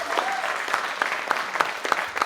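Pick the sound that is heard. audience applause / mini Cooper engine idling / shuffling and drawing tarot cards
audience applause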